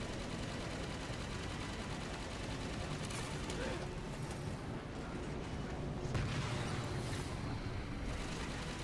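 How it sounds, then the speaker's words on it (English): Gunfire in Halo 5, heard as continuous rapid shooting mixed with game explosions and effects. The din is fairly dense and steady, with a few louder bursts partway through. "I don't know what I'm shooting at, so I'm shooting at everything."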